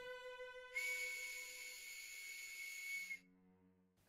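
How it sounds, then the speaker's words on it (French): A shrill, hissing whistle blast sounds for a few seconds over a faint lower tone, then cuts off abruptly. "un coup de sifflet strident retentit."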